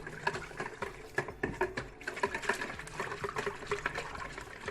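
Milk pours and trickles into a pizza dough mixture with a wet, splashy texture, close by and fairly quiet, with soft irregular bursts throughout.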